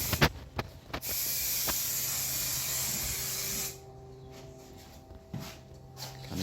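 A spray gun lays a second coat of red paint on a Chrysler Valiant during a rebuild, giving one long steady hiss between short clicks and bursts, then softer scattered sprays near the end.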